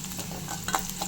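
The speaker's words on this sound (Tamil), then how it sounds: "நல்லா ஃப்ரை பண்ணுங்கள் வெங்காயத்தை" Onions fry in oil for a bitter gourd (pavakkai) fry, giving a soft, steady sizzle and a few light stirring scrapes in a very short, quiet stretch without speech.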